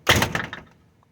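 A storm door pulled shut by a sluggish door closer ends in a single close thunk with a brief rattle that quickly fades to quiet.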